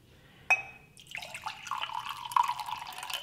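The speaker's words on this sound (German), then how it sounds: "ich fülle jetzt die erste Tasse heißes Wasser ein." Hot water is poured into a no-knead bread dough mix, a sharp clink followed by a close, gurgling trickle that swells and splashes as the stream fills the container.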